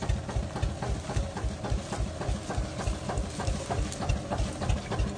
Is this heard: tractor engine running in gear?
yes